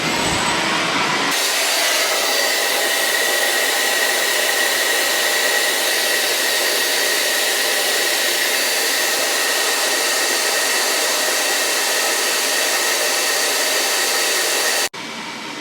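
A shop dust collector runs through a Cen-Tec cyclone dust separator, a loud, steady broadband roar that starts after a brief quiet moment, holds evenly with a faint whine riding on top, then cuts off abruptly near the end.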